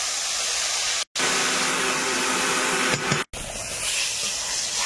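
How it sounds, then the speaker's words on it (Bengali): Tomato frying in hot oil in a pan gives off a steady, loud hiss, with two brief dropouts cutting the sound. "এই তেলে টমেটোটা ভেজে নেব।"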